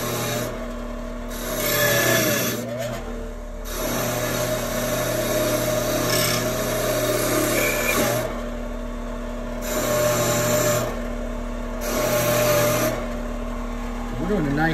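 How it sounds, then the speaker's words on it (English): A bench grinder's wire wheel, slowed on variable speed, scrubs rust off an old jaw harp with a steady whirring hum and bursts of harsh rasping as the metal is pressed to the brushes. "if you don't have a bench grinder that you can slow the wire wheel on, do not use it"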